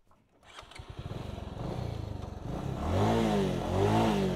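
A vehicle engine with a worn clutch plate on a steep ghat road: a low chugging idle pulses, then rises into a strained, labouring rev that climbs and wavers without picking up, loud and close.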